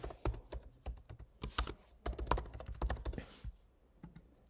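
Someone enters an email address on a computer keyboard to log in. The key taps come in quick, uneven bursts, close and fairly quiet, with a short pause near the end.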